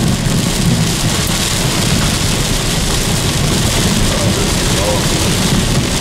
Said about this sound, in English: Yeah, it stormed.